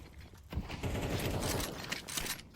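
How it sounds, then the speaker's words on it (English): Gunfire in the Counter-Strike video game during a match, a loud rattling burst of rapid shots that sustains for over a second, then trails off into scattered cracks and impacts, with no talk. "Bullets flying at him from all sorts of directions"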